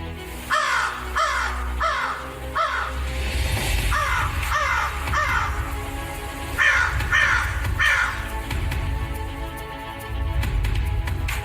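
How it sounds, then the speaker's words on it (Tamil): A crow caws repeatedly in short rhythmic runs of harsh calls, fairly near, over a low steady background rumble, during a church Sunday school stage play. "காகம்"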